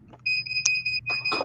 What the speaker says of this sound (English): And then I heard the heat press beep